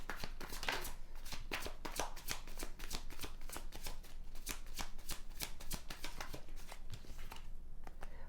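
Tarot cards being shuffled by hand, a rapid, close run of crisp riffling flicks and slaps repeating steadily for several seconds before easing off at the end.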